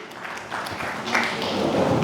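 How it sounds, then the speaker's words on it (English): Symposium audience gives a short round of applause for a woman, brief clapping that swells slightly over two seconds at moderate volume amid room noise. "Please, a round of applause for her."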